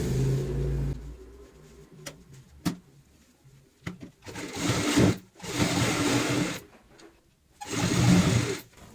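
A sewing machine runs in several separate bursts while stitching a cushion cover, each run a steady mechanical whir broken by short pauses and small handling clicks, heard close with no talking.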